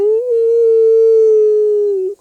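A crowd of audience members imitates a wolf howl together at a talk on grasslands history, one long loud sustained group howl that fades out at the end.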